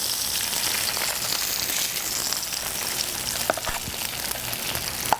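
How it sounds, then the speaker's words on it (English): Salmon hits a hot pan already used for cooking fennel and sizzles loudly and steadily, with a few sharp crackles and pops near the end and no voices. "Then I'm going to actually add the salmon to the same pan"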